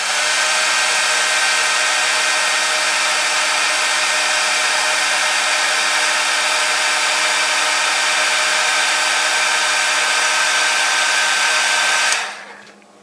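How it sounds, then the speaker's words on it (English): A hair dryer blows steadily at close range with a loud, even whoosh for about twelve seconds, shrinking shrink wrap on a model steam locomotive, then switches off and winds down. "you can use a hair dryer or an embossing tool to shrink the shrink wrap."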